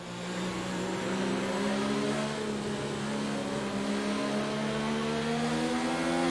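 Formula 1 race car engines in the F1 2019 video game at the Belgian Grand Prix, a loud, sustained high-revving whine from cars running close together, steady and continuous with no talk.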